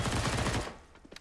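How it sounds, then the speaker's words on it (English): Pistol gunfire outside in Counter-Strike on the Nuke map during a professional match sounds as a rapid, loud cluster of overlapping shots that tails off into a few fainter, scattered cracks. "Got them pistols going outside."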